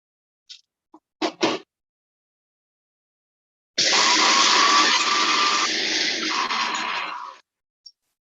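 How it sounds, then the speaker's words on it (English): Blender pulsing roasted, skinned peanuts, with a few short taps and knocks, then one loud grinding burst of about three and a half seconds that cuts off sharply. "I'm going to add it into a blender and I'm going to pulse it for a few minutes"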